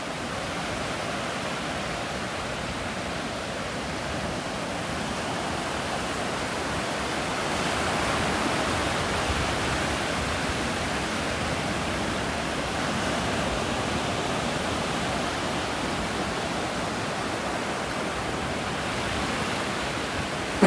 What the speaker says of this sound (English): I like hearing the waves